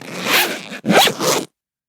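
A clothing zipper pulled open in two quick, loud rasping strokes with a short pause between them, close to the microphone and alone, followed by silence.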